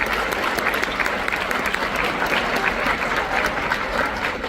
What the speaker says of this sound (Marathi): त्यामुळे जोरदार टाळ्या तेजश्री सोनपाटकीसाठी.